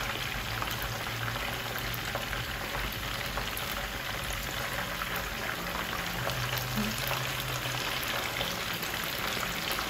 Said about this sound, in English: make sure one side is very, very fried before you flip it.